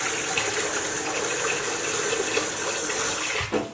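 Hot tap water gushes steadily into a bucket being filled to the 10 litre mark for a fish tank water change, a loud, close, continuous rushing pour that ends with a brief splash near the end.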